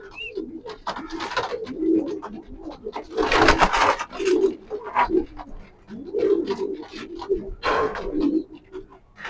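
Pedigreed racing pigeon chicks cooing close up in repeated soft, throaty bursts with short pauses between them, no talking.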